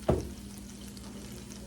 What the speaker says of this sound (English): We're gonna use this to put our chicken in our oil.